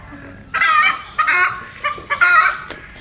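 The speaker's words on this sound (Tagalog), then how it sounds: "galit na galit yung manok sa akin" An agitated chicken clucks loudly and close by in a series of sharp, repeated bursts.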